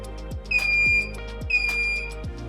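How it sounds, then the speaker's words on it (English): A Nauticam NA-R5II underwater camera housing's moisture alarm gives two high, steady electronic beeps about a second apart, clear over a low mechanical hum and repeating soft ticks. "Nauticam's moisture alarm electronics are included"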